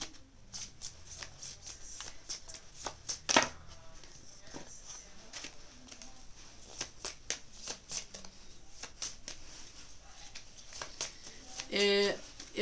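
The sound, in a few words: shuffling tarot cards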